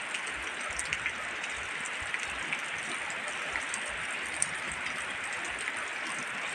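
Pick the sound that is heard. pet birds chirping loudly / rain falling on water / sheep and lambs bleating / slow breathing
rain falling on water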